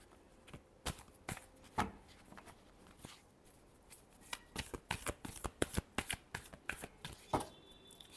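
Tarot cards being shuffled by hand, a run of crisp riffling and slapping bursts at an uneven pace, close and fairly quiet, with no voice over them.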